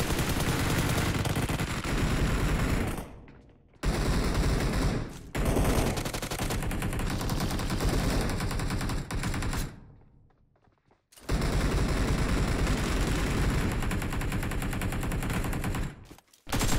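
Dense bursts of automatic gunfire from a PUBG mobile match on an iPhone 16 Pro Max, loud and nearly continuous, broken by two short silent gaps and a few single shots.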